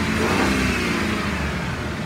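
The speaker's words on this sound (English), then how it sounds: "Let me rev it up." A 2010 Ford Crown Victoria Police Interceptor engine revving up, a smooth rising roar heard close for a couple of seconds, then settling back, with no voices.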